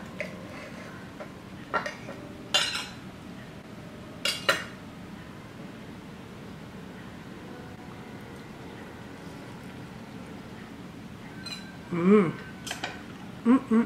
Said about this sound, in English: So now I'll take an apple fritter, cut it in half, and give it a try